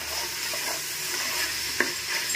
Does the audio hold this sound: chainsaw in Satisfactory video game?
no